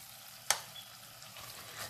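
Ground beef mixture dropped into a hot pan over high heat for curried beef and potatoes, giving a sharp hiss on contact that settles into a steady close sizzle.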